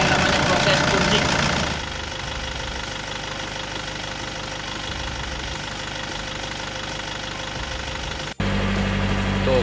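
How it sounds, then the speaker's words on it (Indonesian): A diesel car engine, just purged of its fuel system, runs at a loud, steady idle with a rough knocking clatter, then revs up abruptly near the end. "Kemudian kita hidupkan mesinnya."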